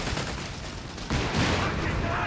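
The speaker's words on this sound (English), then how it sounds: "Artillery strikes there from the base of Jlodge." Artillery strikes in the strategy game Company of Heroes 3 land as a dense, continuous roar of blasts and gunfire that swells louder partway through.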